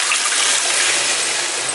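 Water pours from a glass into a cooking pot for rice: a short, steady gush of liquid, close and loud, with no talking.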